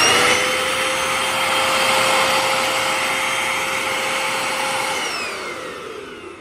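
A Eureka Powerline 4773 bagless upright vacuum with a worn belt runs its motor in a steady, loud, close whine with a constant tone, easing slightly near the end, with no talk.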